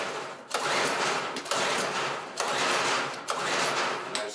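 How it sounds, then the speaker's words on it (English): Repeated pull-starting of a Hyundai HY1000si petrol inverter suitcase generator to pump fuel through: four long, loud rasping pulls in a steady rhythm, each a dense mechanical whirr with brief gaps between, close by and alone. "I'll need to manually pump it through using the pull start"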